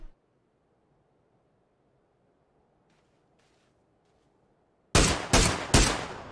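Three loud gunshots ring out in quick succession near the end of PUBG gameplay, after several seconds of near silence with faint rustling.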